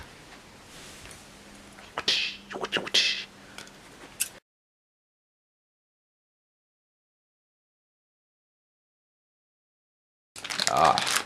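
Scissors snip and crinkle through the plastic packaging of a Dunlop MXR chorus pedal in close, short bursts. A silent stretch follows, then one more rustling cut.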